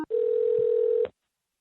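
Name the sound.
telephone dial tone while calling a home phone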